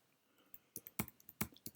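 Bracket keys on a computer keyboard are tapped in a quick irregular series of crisp clicks, close and quiet, with a few louder strokes and no talking.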